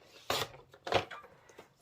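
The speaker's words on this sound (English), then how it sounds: "I'm going to trim this one here at the top just a little bit" Two short scraping strokes of a paper trimmer blade slicing a strip off the top of cardstock for a wedding card, close and crisp, with a pause between them.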